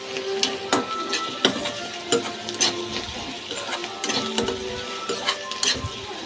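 Thinly sliced onions fry in a pan with a steady close sizzle, punctuated by repeated sharp scraping and clinking strokes as they are stirred; no one speaks.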